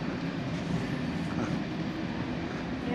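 A train passing during a family trip in the UK, a steady broadband rumble and rail roar holding at an even level throughout, fairly close, with no talk over it.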